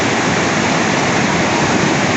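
River water rushes in a steady, loud, unbroken roar that fills the whole short stretch with no pauses.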